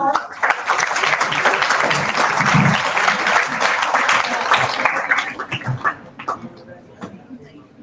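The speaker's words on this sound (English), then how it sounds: "everyone please give him a huge round of applause" A physiotherapy conference audience claps in loud, sustained applause for about five seconds, then it thins into scattered claps as a voice speaks over it.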